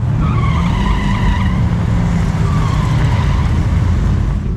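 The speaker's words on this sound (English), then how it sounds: "Sounds like it might be having a hard time getting a good burnout over there." A Corvette Z06 C7 does a burnout at a drag strip: sustained, loud tire squeal and roaring engine noise with a rising screech, continuous throughout without speech.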